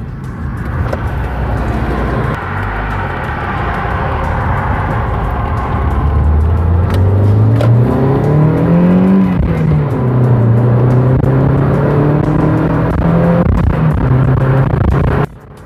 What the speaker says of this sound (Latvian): Braucam uz šosejas, nospiežam, teiksim, gāzīti grīdā, paskatāmies, kā mašīna reaģē 4., 5. ātrumā.